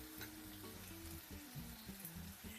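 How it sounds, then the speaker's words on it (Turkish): Onions and peppers sauté in a pan, a steady close sizzle with light stirring under a faint melodic tone. "Kavuracağım arkadaşlar."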